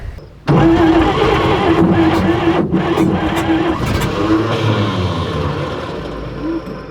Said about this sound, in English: It's firing. That's a start.